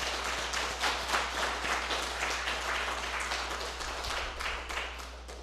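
A church congregation applauds the choir at a Sunday service, giving steady, dense clapping that carries on without a break for several seconds with no talking over it.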